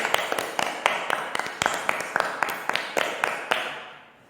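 A congregation at a Hindi Christian prayer service claps in a steady, rhythmic series of sharp hand claps, fairly close and clear, fading out at the end.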